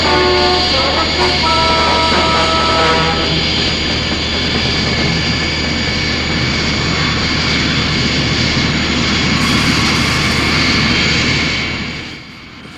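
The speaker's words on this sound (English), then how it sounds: "So now you have to have a transport aircraft," Thunderbird 2, the transport aircraft from the Thunderbirds TV series, its engines giving a loud, sustained roaring whine with steady tonal hum, briefly layered with a higher hiss before fading at the end.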